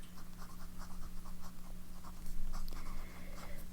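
A Pelikan M200 Smoky Quartz fountain pen with a broad nib scratches softly across paper in short repeated strokes, close and quiet over a steady low electrical hum.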